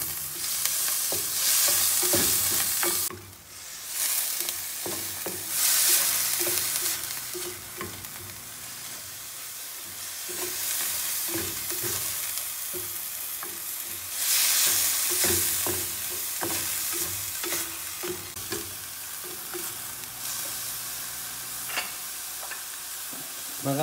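Chop suey with chicken liver stir-fried in a home kitchen, with loud continuous sizzling and frying close by and frequent scraping, clanking stirs of a utensil against the pan; no talking.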